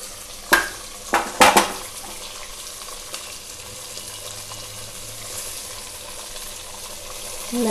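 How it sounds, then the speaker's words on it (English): Stuffed brinjals fry in a pot for a Bagara Baingan eggplant curry, a few sharp clinks and scrapes of flipping early on, then a quiet steady sizzle. "Like this we have to flip the brinjals and fry them for some time"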